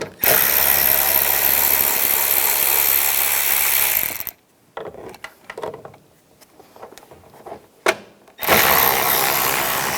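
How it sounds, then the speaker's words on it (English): An 8mm socket on a ratchet backs out tail light nuts on a 2013-2016 Dodge Dart. Loud continuous rapid clicking runs close by, then stops for a quieter stretch of scattered handling noise before the clicking resumes. "Using a 8mm socket, take the two nuts out."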